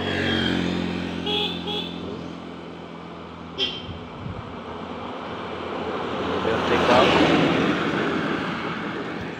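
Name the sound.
vehicle passing by on the road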